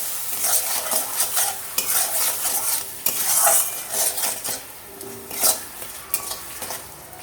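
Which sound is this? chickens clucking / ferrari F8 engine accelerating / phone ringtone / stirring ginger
stirring ginger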